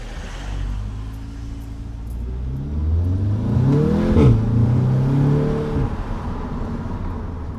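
An Audi S3 drives along a country road, its engine climbing through the gears with a revving surge at the middle before settling into a steady cruise drone.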